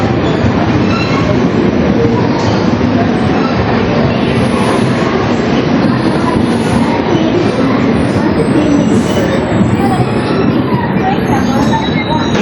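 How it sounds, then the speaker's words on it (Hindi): 12625 Kerala Express entering Erode junction, a steady loud rumble and clatter of rolling coaches with faint wheel squeals, heard from on board throughout. "और ये है इरोड का जंक्शन, यहाँ हमारी ट्रेन एंटर कर गई है।"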